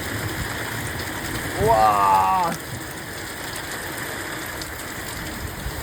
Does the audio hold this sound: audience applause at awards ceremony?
no